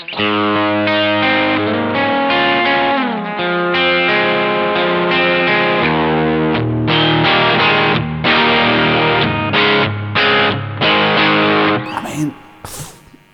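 Overdriven electric guitar through an amp simulator set as a pushed JTM45 with guitar volume full, playing chords and runs in a crunchy tone, loud and continuous, with a brief noisy burst near the end.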